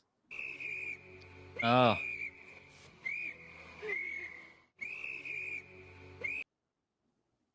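A shrill, steady whistle is blown as a sound effect in several bursts, with a voice and a brief exclamation breaking in partway through.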